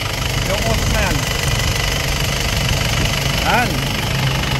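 An Isuzu 4JA1/4JB1/4JJ1 diesel engine with suspected blow-by idles loudly and steadily up close, with a rough knocking rumble throughout.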